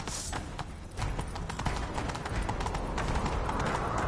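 Hooves of Geralt's horse Roach in The Witcher video game pound in a steady, rapid gallop, with the rhythm growing fuller and louder after the first second and continuing throughout.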